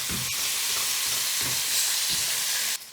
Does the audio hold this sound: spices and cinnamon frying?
yes